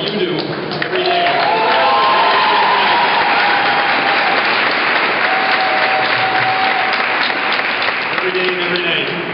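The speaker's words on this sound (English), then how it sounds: "I hope you give yourselves a round of applause for what you do every day." A crowd of nurses at a rally applauding, dense sustained clapping and cheering that fills the space at steady loudness, with voices rising through it.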